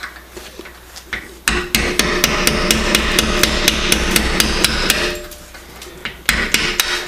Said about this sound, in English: now I'm going to use the cold chisel and chisel them out